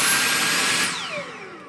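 A Dyson V8 cordless vacuum cleaner roars at maximum power with a loud, steady whine, then its motor spins down with a falling pitch; no voices.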